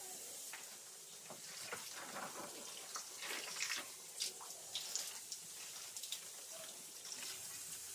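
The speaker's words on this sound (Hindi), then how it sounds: "पाइप से पानी देने से क्या होता है कि पौधे के पत्ते भी चमकने लगते हैं" Water spraying from a hose pipe onto potted garden plants on a balcony, a steady soft hiss with patters and splashes on leaves, fairly faint and close.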